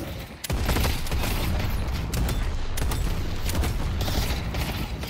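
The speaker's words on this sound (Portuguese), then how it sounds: "Tiroteio frenético." Frantic gunfire in the video game Deadlock: dense, rapid bursts of shots and booming impacts overlapping in a loud, chaotic exchange, with mechanical clatter between volleys.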